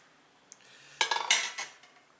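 A spoon scrapes and knocks against a pot while stirring a ham hock winter vegetable stew, a few close metallic clinks and scrapes over about a second.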